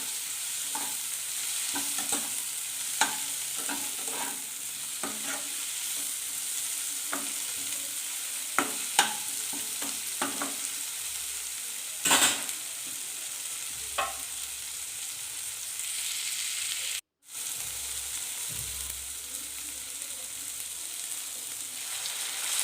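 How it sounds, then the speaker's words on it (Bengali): Potatoes stirred and fried in goat fat in a pan, a steady close sizzle with scraping spatula strokes and occasional louder clatters, no voices. "আলুগুলো এর ভিতরে একসঙ্গে দিয়ে দেবো, দিয়ে এটাকেও নাড়াচাড়া করে নিয়ে একটু ভাজা ভাজা করে নেব"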